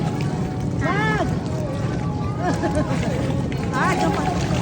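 A floating cottage's boat engine runs steadily at Calatagan, Batangas, a continuous low drone beneath outdoor chatter, with voices talking over it throughout.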